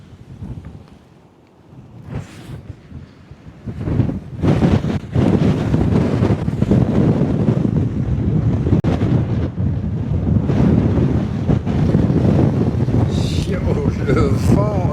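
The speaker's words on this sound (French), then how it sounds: "Le vent, un truc de malade." Strong wind at a river delta bird observatory buffets the microphone in loud, sustained roaring gusts after a quieter start, with someone talking over it at times.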